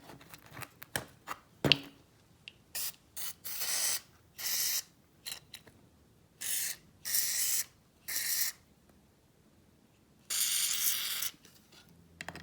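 Short bursts of multi-purpose penetrant lube sprayed from a can onto a Honda ATC 200x engine during a top-end teardown, about eight hissing squirts at irregular intervals with light clicks and taps between them.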